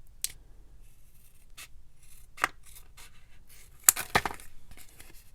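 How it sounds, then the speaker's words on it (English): Paper is snipped with scissors to trim a junk journal tag: a few sharp, isolated cuts spaced over several seconds, close and fairly quiet, with a quick double snip near the end and soft handling rustle between. "So let me just cut off this little area."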